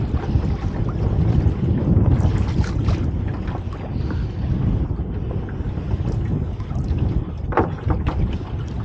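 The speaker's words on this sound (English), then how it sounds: "the wind is picking up by the feel of it" Steady wind gusts buffet the microphone on a shoreline at dawn while out by dinghy, a loud continuous rushing roar with no talking.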